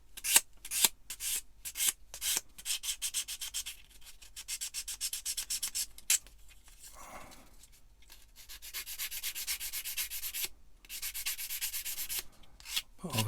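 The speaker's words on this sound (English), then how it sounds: "just go over any bits that you think may need dressing with the sander" Power sander dressing the parts of an eModels Cat-Cat model car body kit, giving a run of rough abrasive rubbing bursts, close and steady with short pauses between passes.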